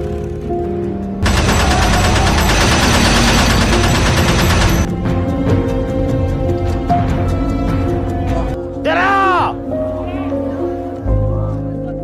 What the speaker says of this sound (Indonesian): menakuti para santri dengan tembakan senjata-senjata mesinnya